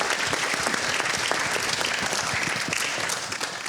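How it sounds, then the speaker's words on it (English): Audience applause for the teams at a workshop, steady dense clapping filling the room from start to finish, loud and continuous with no voices, easing slightly at the very end. "A big round of applause to all the teams."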